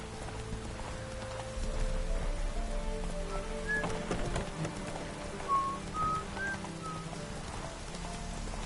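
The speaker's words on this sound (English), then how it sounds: "Those have brought us rain." Steady rain falls in The Witcher 3, a broad hiss that runs throughout beneath music, with light hoofbeats and a few faint whistling calls.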